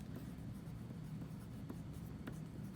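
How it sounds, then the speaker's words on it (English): A pen scratches across paper, making a quiet, continuous scribbling sound with a few faint taps, steady and close, with no one talking. "So let me draw that out on paper for a better explanation."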